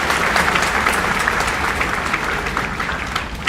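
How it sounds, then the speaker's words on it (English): Loud, dense applause from a tech-a-thon audience, a continuous roar of many hands clapping close by that holds evenly for several seconds. "give a good round of applause if you want to"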